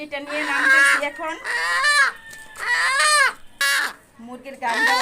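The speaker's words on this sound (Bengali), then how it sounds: "মুরগির গানটা বন্ধ হচ্ছে না।" A cream-coloured hen carried off a farm for sale cackles loudly and repeatedly up close in long drawn-out bursts with short gaps between them.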